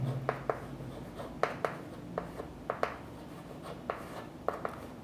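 A math problem is written on a board during a class, producing a run of sharp, close taps and scratchy strokes in irregular bursts over quiet room tone.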